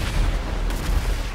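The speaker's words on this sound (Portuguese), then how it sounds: "É mais bomba vindo na sua." Dense, booming explosions and gunfire from a GTA V Online match rumble loudly and continuously in a short, chaotic burst.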